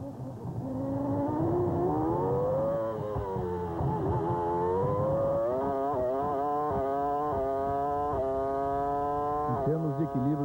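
Formula 1 race car engines at the 2002 Monaco Grand Prix scream continuously, the pitch sweeping up and down through gear changes, loud and close beneath an excited commentator talking throughout.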